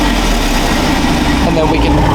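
A Jeep Wrangler 392 V8 with its stock exhaust valves closed idles as a steady, close, low rumble that holds even throughout.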